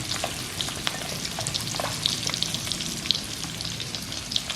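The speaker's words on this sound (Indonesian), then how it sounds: "Habis ini kita mau goreng jengkol." Steady, close sizzling of jengkol frying in hot oil in a pan, with scattered small pops and crackles throughout.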